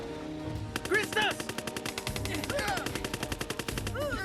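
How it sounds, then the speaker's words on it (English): Gunfire sound effects from the Transmutators movie rattle in fast repeated bursts of automatic shots, mixed with other effects and a musical score. "the sound effects of the guns do not match up with the actual firing of the weapons"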